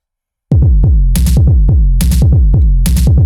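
Techno toms in Ableton, distorted into a gritty bass, pound in a driving loop of loud, thick, saturated thumps with bright crashing accents recurring every few beats, starting after a short silence.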